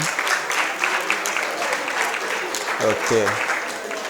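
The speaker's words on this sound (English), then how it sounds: "Let's clap for them." Audience applause at a breakout session of a jobs summit, a steady wash of clapping filling the room throughout while a voice speaks briefly near the end.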